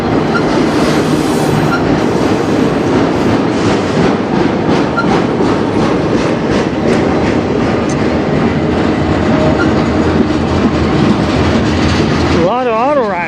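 A CN freight train loaded with auto racks rolls past in Sarnia, Ontario, a loud, steady rumble and clatter of wheels and cars that fills the whole stretch with no break.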